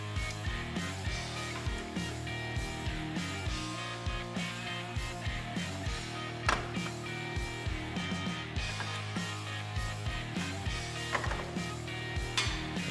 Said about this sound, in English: go ahead and get this castle nut off here